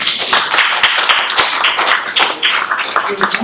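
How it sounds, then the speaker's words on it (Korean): Audience clapping at a lecture event marking the founding of a peace movement group, a dense, steady patter of many hands at moderate loudness, with a voice speaking over it. "요 분들께 다시 한번 큰 박수"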